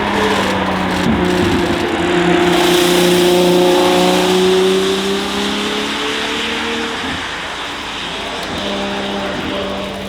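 An Aston Martin Bulldog drives by outdoors in the rain, its engine note rising and then falling as it passes, loud and fairly close, with no talking.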